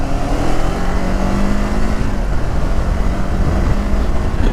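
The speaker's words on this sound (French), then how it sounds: "t'entends le moteur qui gueule" A Kawasaki motorcycle engine, a Versys 1100 SE or Ninja 500 SE, roars loudly and steadily under acceleration, a continuous close engine drone with a rising tone and heavy wind rush throughout.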